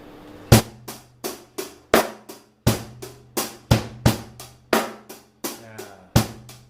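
A drum kit plays a 16-beat pattern, number nine, with hi-hat: crisp, evenly spaced strikes with short decaying tails, close and alone.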